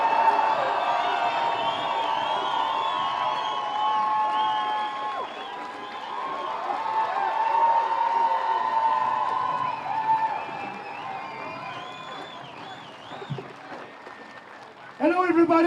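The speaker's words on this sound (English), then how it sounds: "Let's give him a round of applause, everybody" A crowd at a political rally greets Maxime Bernier with sustained applause and cheering, a broad continuous roar lasting several seconds, with shouts and voices mixed in before a louder burst near the end.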